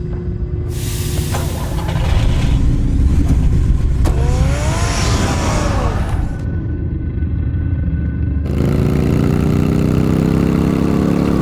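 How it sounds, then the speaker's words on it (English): The Batmobile's engine in a Batman video game runs loud and close, a steady rumbling drone with a rising rev partway through, alone without talk. "Get the car ready, Alfred."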